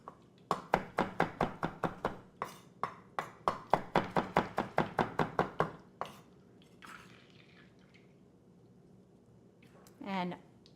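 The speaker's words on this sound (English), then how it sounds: "I'm gonna give this a chop." Fresh rosemary is chopped with a knife on a cutting board: about twenty quick, evenly spaced close thuds for six seconds, then quiet kitchen handling and a brief soft scrape.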